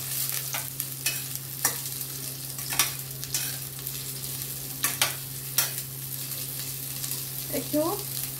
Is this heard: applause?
no